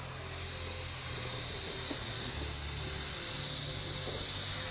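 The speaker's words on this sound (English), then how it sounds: "You just want to airbrush to the dot, shut the paint off, stop, start again, airbrush to the next one" An airbrush sprays air and paint in a steady, loud hiss that swells slightly at the start and then holds constant for several seconds, with no talk.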